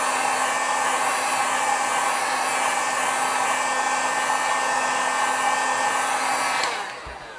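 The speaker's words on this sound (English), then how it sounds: "Now we're gonna heat this side up and then do the middle. And it don't take long with a heat gun." Heat gun blowing a steady, loud stream of hot air over a Nintendo Switch Lite skin, a constant whirring hiss with a fan hum that cuts off abruptly near the end.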